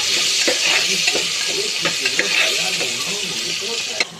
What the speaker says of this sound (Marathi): आता थोडंसं फ्राय करून घेते माझी मम्मी टोमॅटो